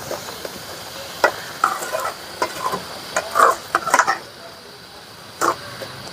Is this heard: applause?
no